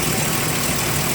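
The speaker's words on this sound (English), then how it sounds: "The engine is running," A VW Jetta VR6 engine idling, with a steady, even low rumble throughout and no talk.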